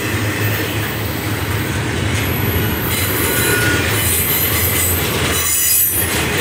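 A CSX eastbound freight train rolls past on a Saturday morning, a loud, continuous rumble of wheels on rail with a high squeal running over it, close by and steady throughout.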